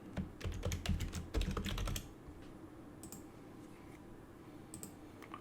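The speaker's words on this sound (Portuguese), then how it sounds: "E aí você vai digitar a sua placa de vídeo" Fast, close clicking of keys on a computer keyboard, a dense burst of typing for about two seconds, then a pause and a few scattered taps.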